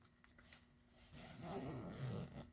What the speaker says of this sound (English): Open your zipper.